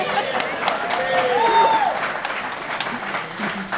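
A St. Louis audience applauds, a broad wash of clapping held steady for several seconds, with a few faint voices and a brief whistle-like tone rising over it.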